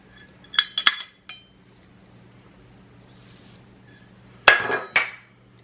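Ingredients are stirred together in a bowl, heard as a few light clinks of a utensil against the dish in two short clusters separated by a quiet pause, close-up with no speech.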